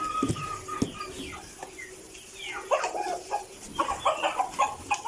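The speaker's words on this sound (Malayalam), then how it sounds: "ഇതാണ് എൻ്റെ കോഴികളെ" Chickens in a backyard coop cluck and chatter in short, scattered calls close by, with a few sharper squawks toward the end and no talk.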